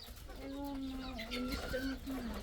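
Egg-laying desi hens on a farm give a drawn-out, wavering cluck that rises and dips, close by and fairly faint, with no talk over it.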